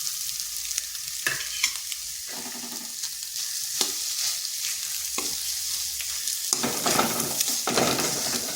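Mashed potato and grated boiled egg are mixed together in a bowl, giving soft repeated squishing and scraping strokes, close and moderately quiet, with no voices.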